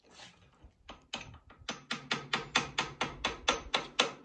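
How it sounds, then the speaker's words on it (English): Hammer blows on a big wheel nut of an old Ford, a steady series of about a dozen sharp metallic strikes, close and loud, speeding into an even rhythm. "Hammering."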